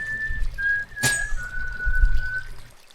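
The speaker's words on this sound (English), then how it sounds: "I'm just gonna have a whistle." A person whistles a thin, wavering tune of a few sustained notes, with a sharp noisy burst near the start and quiet low rumble underneath.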